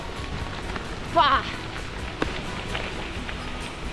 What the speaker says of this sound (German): Und mir regnet es voll hinten rein.